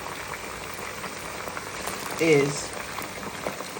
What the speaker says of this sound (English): this chicken is frying up